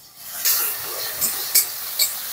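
Ginger-garlic paste sizzles among frying onions in a pan, with a steady hiss broken by four sharper bursts as the mixture is stirred, close and without speech.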